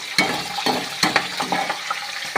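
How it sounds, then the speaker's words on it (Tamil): Garlic frying in hot oil in a pan for a ridge gourd poriyal, a steady close sizzle broken by several sharp stirring scrapes, with no talking. "பூண்டு நல்லா எண்ணெயில் பொரியணுங்களா"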